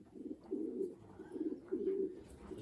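Racing pigeons coo softly at a loft, giving several low, rolling coos in a loose rhythm against quiet background noise.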